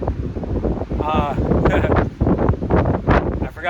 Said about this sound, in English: But it is crazy windy up here.